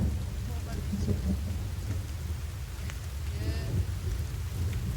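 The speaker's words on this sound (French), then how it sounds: "Ah bah il pleut, c'est bien ça." Rain falls steadily in The Forest video game, with low rumbles of thunder beneath the downpour and a brief spoken word.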